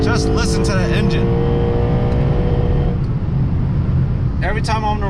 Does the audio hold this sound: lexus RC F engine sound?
yes